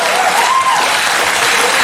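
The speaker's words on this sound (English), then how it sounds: "Y'all cheering out there" A live audience at a stand-up comedy show applauds and cheers, dense clapping mixed with whoops filling the short moment at steady loudness.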